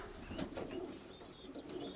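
Pigeons murmur softly inside a dovecote where white doves roost, a low steady cooing that hums continuously with faint wing shuffles and a few higher chirps over it.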